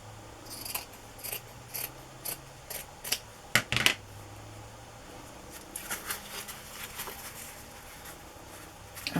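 Scissors trimming paper for a journal cover, a quiet series of short snips in small clusters, close and faint against a soft room background with no talk.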